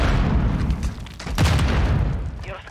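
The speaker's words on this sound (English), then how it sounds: "And they threw a grenade." A grenade explodes in Warzone, with deep booming blasts and rumbling bursts in a noisy firefight, loud and continuous across the moment.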